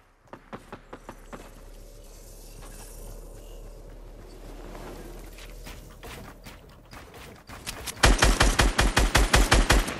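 Video game gunfire, scattered single shots and short bursts early on, then a loud, rapid machine-gun volley near the end, close and harsh, with no talking.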